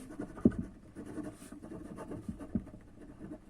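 Chalk or marker writing on a classroom board during a commerce lesson, a soft irregular scratching with a couple of sharper taps, close and fairly quiet with no talking.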